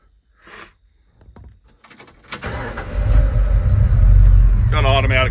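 A 1977 Ford F350 Custom dump flatbed with a 460 V8 and automatic choke cranks over and fires, settling into a loud, deep rumbling idle, close by, with someone talking before it starts.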